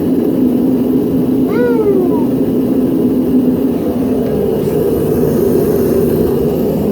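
A cat meows once, clearly, in a dairy barn over a constant loud mechanical hum that fills the space.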